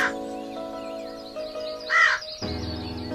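A crow caws twice, loud and harsh, standing out over a steady tonal backing hum.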